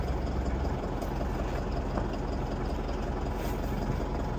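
A vehicle engine idles with a steady, low rumble that stays close and even throughout, with no voices over it.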